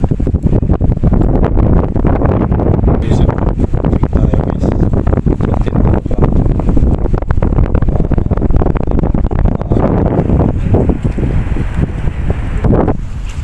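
Strong wind roars steadily against the microphone throughout, a loud, continuous rumbling buffet with no voices.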